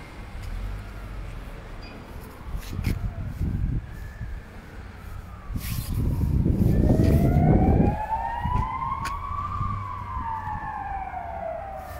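Wailing ambulance sirens rise and fall in pitch, growing louder as they pass amid rumbling traffic, then fade slightly, during a fire near a Mamaia Nord club.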